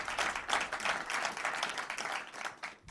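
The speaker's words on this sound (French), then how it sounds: "Tu vas entendre les gens t'applaudir d'ailleurs." A live audience in public at the Cité de la Voile applauds with dense, continuous clapping throughout, fairly distant and soft, tapering off at the end.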